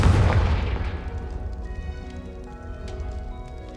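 A Confringo fire curse spell explodes in the video game Hogwarts Legacy, opening with a loud, deep boom that decays into a crackling, rumbling tail lasting several seconds.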